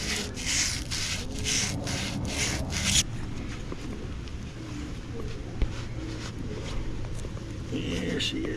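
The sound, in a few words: sanding a trailer hub spindle with sandpaper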